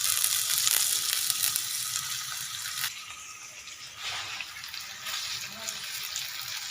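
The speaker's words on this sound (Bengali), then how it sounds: "ভালো করে সবজিগুলো একটু ভেজে নেব।" Vegetables fry in a pan with a bright, hissing sizzle that stays close and fairly steady, easing slightly partway through, with no voices.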